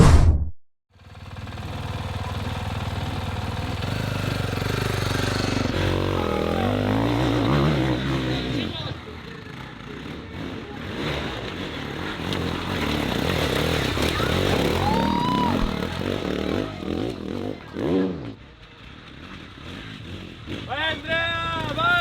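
A KTM 450 EXC-F enduro motorcycle revs and rides close by, with a steady rising and falling engine note and changing pitch over about twenty seconds. A voice calls out above the engine partway through.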